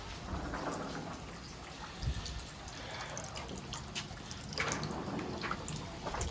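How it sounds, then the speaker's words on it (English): Water running through a newly installed downspout drain: a steady broadband splashing and trickling wash with scattered drips and small gurgles, moderately faint and continuous throughout. "So we're filling this up right now. You can hear the water."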